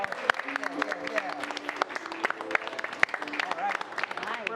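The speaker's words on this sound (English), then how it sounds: "Please give a round of applause to all your players coming to the stage now." Applause for players walking onto the stage at an improv comedy show, scattered claps and cheers from a modest crowd in a small room, with voices talking over it.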